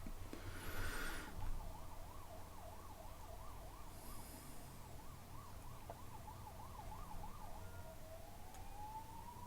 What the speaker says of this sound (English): These are real ambulances, not like, you know, dignitaries in black limousines.